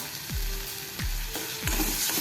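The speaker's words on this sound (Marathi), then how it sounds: "आणि अजून दोन तीन मिनटं आपण जरा हे परतून घेऊया" Potato and pea masala with mango powder and green chillies being stirred in hot oil in a pan, a steady sizzle with three scraping stirs spaced about a second apart, close and alone.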